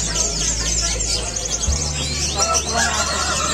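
Caged birds, including females, chirp and tweet at the Gawok traditional bird market in Sukoharjo. Bright, overlapping calls sound over a steady low hum and faint background chatter.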